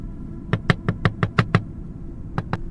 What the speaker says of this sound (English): 3 knocks, one on each window